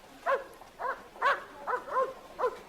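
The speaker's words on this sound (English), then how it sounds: "Is that your dog barking?" A dog barks about six times in a steady, evenly spaced series, moderately close and clear, with no talking over it.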